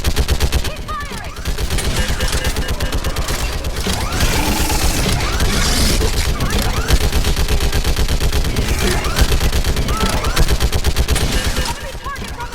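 Sustained gunfire in the Mass Effect Legendary Edition video game, loud rapid automatic bursts and overlapping shots throughout, heard under shouted combat voices.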